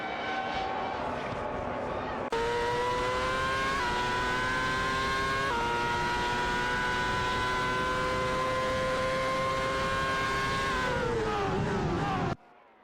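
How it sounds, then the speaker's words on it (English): Formula racing cars in a video game, a Toyota TF106B dueling a McLaren MP4-21, scream past with sustained high-pitched engine whine, revs rising and dropping through gear shifts, loud and continuous before cutting off abruptly at the end. "Intense battle for 13th between Tanka Menin 704 in a Toyota TF 106B and Suzanne Greenberg and Nukem Bokum in a McLaren MP421."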